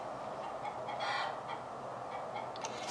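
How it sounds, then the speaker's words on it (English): Young hens squawk and cluck loudly right after laying their first eggs, a busy run of repeated calls close by with no voices over them. "there's a chicken who has just laid an egg, so she's squawking because they're young chickens and this is their first eggs"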